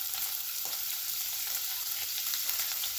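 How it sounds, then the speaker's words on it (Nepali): Paneer frying in a pan for matar paneer until golden brown, with a steady, close sizzle throughout and no talking. "यसलाई चाहिँ हामीले गोल्डन ब्राउन हुन्जेलसम्म फ्राई गर्ने"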